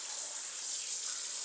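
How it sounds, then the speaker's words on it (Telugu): Hot water from the overhead bathroom heater pours steadily out of the tap, a constant close hiss of running water with no talking. "వేడి నీళ్ళు వస్తాయి ఇక్కడ, దాడుందా కదా పైన హీటర్"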